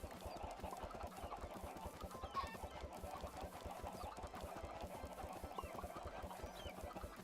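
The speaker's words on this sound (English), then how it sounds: "Because chickens." Many chickens clucking in the Minecraft modpack SevTech Ages after thrown eggs hatch, a dense overlapping stream of short clucks at steady volume with a brief squawk in the middle.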